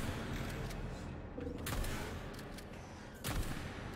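Quiet, muffled shotgun blasts in the video game Atomic Heart, two sharp booms about a second and a half apart over a steady noisy background.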